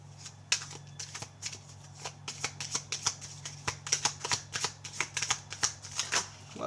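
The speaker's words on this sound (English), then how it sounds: "Let's get one more card out here for Aquarius." Tarot cards being shuffled in a steady run of close, quiet flicks and riffles, with a rhythmic papery patter and no voices.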